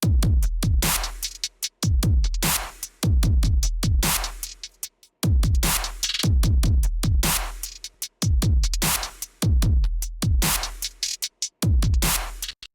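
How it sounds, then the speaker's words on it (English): Produced drum track built for WWE television music, with punchy kick, snare and bright hi-hat playing a steady, loud, repeating groove with brief gaps between phrases, no voices. "So all together, the drums sound like this."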